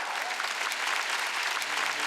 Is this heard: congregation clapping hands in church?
yes